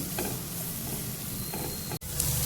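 Capsicum pieces sauté in hot ghee in a kadhai in a home kitchen, a steady close sizzle with a soft scrape of stirring partway through and a brief clatter near the end.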